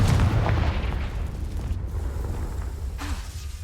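A Confringo spell blast in Hogwarts Legacy gameplay: a loud booming explosion at the start that decays into a low rumble, with a faint magical whoosh near the end.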